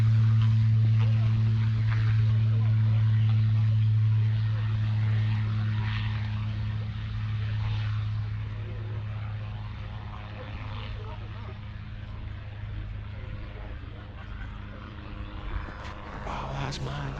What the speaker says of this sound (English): we've got a microlight is actually taking off here in the background